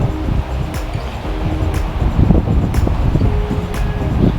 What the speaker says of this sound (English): The wind is definitely not my favorite today either.